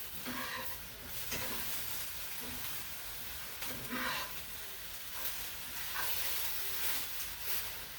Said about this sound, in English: We're going to let this meat get a little sear on it.